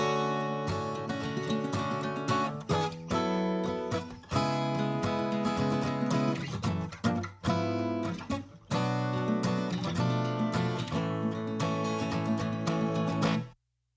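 Full acoustic guitar mix running through a 2254 bus compressor at 3:1 on auto release with the limiter off: dense strummed chords with rhythmic accents and brief breaks, steady and loud until a sudden stop, with no talking.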